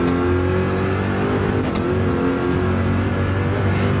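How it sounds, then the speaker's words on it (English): A GT3 race car engine in Gran Turismo 7 revs hard and steadily, a loud, continuous droning roar heard from onboard with no talking over it. "I know the car sounds awesome at least."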